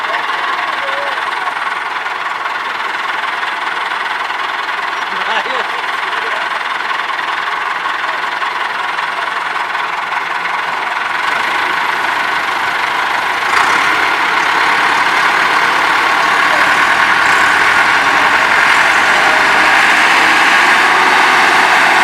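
A tractor hauling a trailer, stuck on a road, runs continuously with a steady rumbling engine throughout, loud and close, while voices talk intermittently over it.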